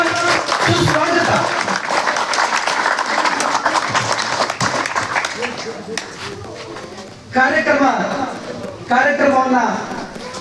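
An audience at a government high school event in Shettigere gives a guest a loud welcoming round of applause. Dense, steady clapping fills the first several seconds, then fades as a voice begins speaking over the hall.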